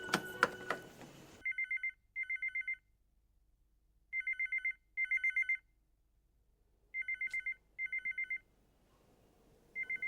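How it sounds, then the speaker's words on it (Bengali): A landline telephone rings in repeated paired electronic bursts with short pauses between, clear and steady, following a brief louder noise at the start, with no talk over it. "কি ফোনটা বাজছে, ফোনটা ধরো না।"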